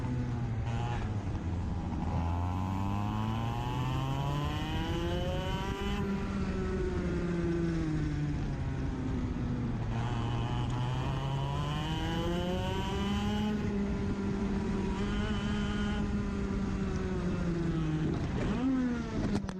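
Race car engines on a track in a big 23-car race, a continuous loud engine drone with pitch sweeping up and down through gear changes and passes, with no talk over it.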